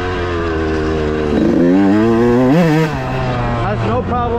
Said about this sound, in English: That kind of gives us a sign that this bike's running a little bit rich down low.